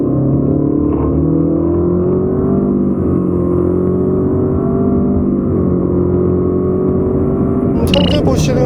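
Nissan Altima 2.5 facelift accelerating hard from a standstill, a loud steady engine drone rising slowly in pitch and holding for several seconds, heard from inside the car, with a brief clatter near the end.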